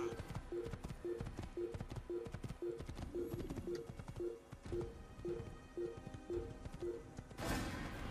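A horse galloping in the video game Assassin's Creed, with rapid rhythmic hoofbeats in a steady repeating pattern over quiet game ambience, fairly faint throughout.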